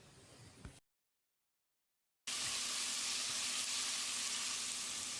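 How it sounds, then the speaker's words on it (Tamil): Ground onion, green chili, ginger and garlic paste frying in hot oil for a mutton curry rice dish, a short stirring clatter, a gap of silence, then a loud steady sizzle that carries to the end. "பச்சை வாசனை போகிற அளவுக்கு ஒரு 2 நிமிஷம் நல்லா ஃப்ரை பண்ணிக்கலாம்."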